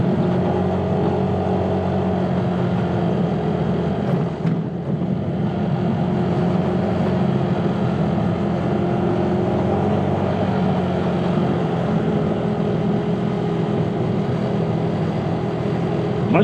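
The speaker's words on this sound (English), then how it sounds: "My scooter is sounding kind of loud." A scooter engine running loud and rattly on a long road ride from Datil, New Mexico toward the Grand Canyon, a constant droning hum with wind noise and one brief dip, and no talking.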